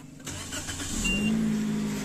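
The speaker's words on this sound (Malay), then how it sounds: "okey, sekejap kita hidupkan enjin." A Toyota Vios/Yaris engine starts up: a short cranking burst settles into a steady, close idle hum that carries on to the end, with no talk.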